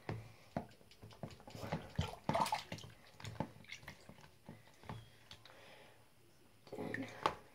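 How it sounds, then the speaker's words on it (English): Bath water splashes and drips in short bursts as baby dolls are rinsed in a tub, the small sloshes and trickles close by and fairly quiet, with pauses between them. "And then I rinse them one last time."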